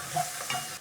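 A brief, close scrape of a spoon stirring turmeric, chili powder and salt in a pan, with a faint sizzle.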